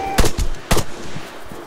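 Gunfire rings out in Arma 3 on Stratis: two or three loud, close bursts of shots in quick succession, followed by a fading echo, with no voices.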